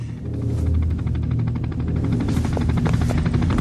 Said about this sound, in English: Oh, there's my helicopter.